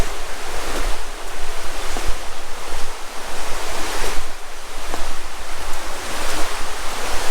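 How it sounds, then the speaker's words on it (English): Running water in the Peak District countryside rushes in a continuous broad hiss, loud and close, with slight surges and no voices. "Something about the sound of running water."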